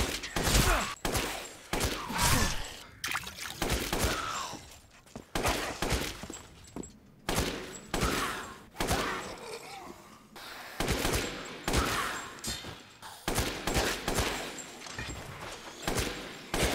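Fully upgraded WCX rifle shots in Resident Evil Village, loud repeated sharp blasts in quick bursts through the whole stretch, with brief gaps and no talk.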